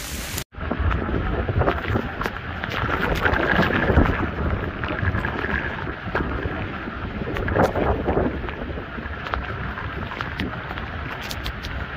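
A summer downpour drums over a village in Punjab, Pakistan: a loud, continuous roar of rain with gusting wind buffeting the microphone and occasional sharper splashes, steady for the whole stretch.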